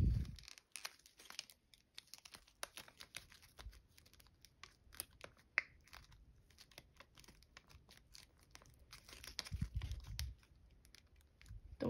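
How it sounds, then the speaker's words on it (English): Paper being folded into the wings of a paper fighter jet produces faint, sporadic crinkles, taps and soft creases close by, with quiet pauses between the handling sounds. "So now fold the wings up."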